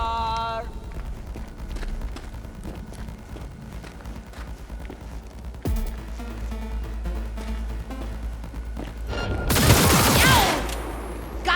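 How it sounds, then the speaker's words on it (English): Gunfire in the video game Cyberpunk 2077, scattered sharp shots and a dense burst of rapid fire near the end, mixed with game music and ambience. "Heard shots."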